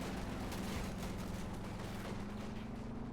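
Heavy .50 cal machine gun fire in a World War II battle game, a dense, continuous roar of automatic shots and battlefield noise, loud and close, with no talking over it.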